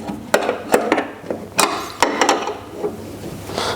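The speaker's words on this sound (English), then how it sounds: "we just run around and tighten these left and right threaded linkage" Threaded linkage rods on a Hyper Racer X1 RC car are tightened by hand with a small tool, making irregular close clicks, taps and ratchety ticks spread over a few seconds without talking.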